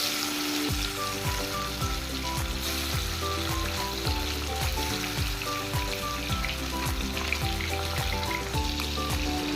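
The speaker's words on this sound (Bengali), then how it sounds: "এখন মাছগুলোকে ভেজে নেব।" Fish fry in about half a cup of white oil in a wok, giving a steady, close, dense sizzle with crackling, and tonal music plays throughout.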